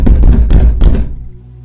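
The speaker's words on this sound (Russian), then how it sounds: "Стук повторился." Heavy knocks on a door in a horror-story setting: two loud thudding bursts of blows, the second starting around the midpoint, then quiet fading to a low hum with no voices.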